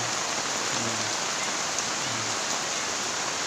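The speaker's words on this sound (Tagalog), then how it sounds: "ganyang kalakas yung ulan" Heavy rain pours steadily at dawn in Gubat, Sorsogon, a dense, even roar of drops hitting surfaces, loud and close without a break.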